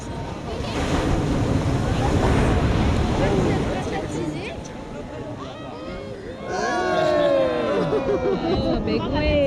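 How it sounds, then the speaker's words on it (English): Ocean waves roll and crash on a beach at Todos Santos, Mexico, with a steady broadband rush, wind buffeting the microphone, while voices chatter nearby and a swell rises louder toward the end. "Oh, big wave."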